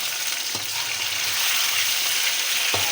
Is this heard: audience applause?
no